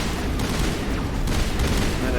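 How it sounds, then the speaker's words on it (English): Rapid gunfire from a shooter in the game Mass Effect, rounds hitting a wall, a dense burst of shots running through the whole stretch at steady loudness. "you're firing into a wall"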